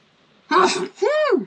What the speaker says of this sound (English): I know when to sneeze.